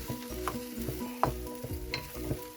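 Chopped kale is stirred in a hot frying pan, the utensil scraping and knocking in irregular strokes over a steady close sizzle, with no one talking.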